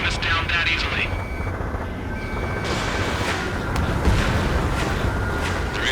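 A fighter jet in Ace Combat 7 accelerates toward takeoff inside a tunnel, a dense roaring engine rush with whooshing surges, and voices talk over it.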